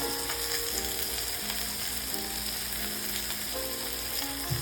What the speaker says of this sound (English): I'm just stirring it around because I wanted to just have that max flavor that was in here